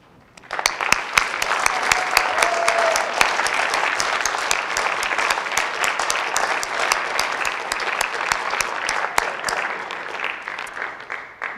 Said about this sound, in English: we'd like to recognize you with a roaring round of applause